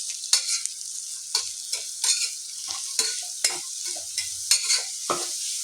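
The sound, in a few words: fenugreek leaves frying in oil, stirred in pan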